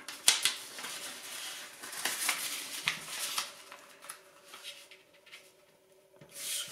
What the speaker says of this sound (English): Squash the paper flat.